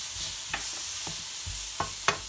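Tomatoes with ginger-garlic paste fry in a pan with a low steady sizzle, broken by a few sharp scraping stirs from a spoon, close and moderately quiet with no talk.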